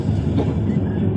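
A passenger train rolls along the rails toward Guwahati, a steady low rumble of wheels and carriage noise heard from inside, moderately loud and unbroken.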